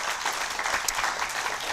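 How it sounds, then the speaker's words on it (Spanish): A church congregation applauds during a sermon, a dense, steady wash of many hands clapping at fairly close range that runs unbroken for the whole short stretch, with no voices rising above it. "Un aplauso al Rey de Reyes y Señor de Señores."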